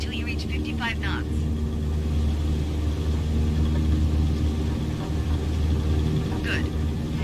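A Cessna 152 engine at full power on the takeoff roll, a steady droning cabin rumble heard throughout beneath an instructor's spoken guidance.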